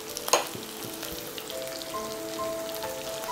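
Onions and tomato frying over medium flame in a pan, a steady soft sizzle with a brief scrape of stirring near the start, close and fairly quiet with no talking.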